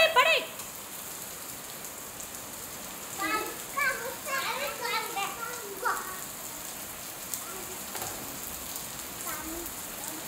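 Steady rain falls outdoors as a soft continuous hiss, while someone talks and plays nearby for a few seconds in the middle.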